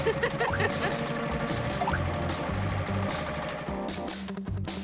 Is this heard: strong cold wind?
no